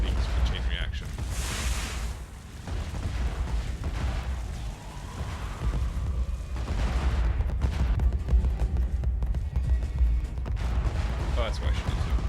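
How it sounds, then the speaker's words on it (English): Chain-reaction spell explosions in the fantasy video game Fictorum, a dense continuous roar of blasts and rumbling booms rolling on for the whole stretch, loud and busy without pause. "This is the full Jericho effect, and then it just keeps exploding with chain reaction."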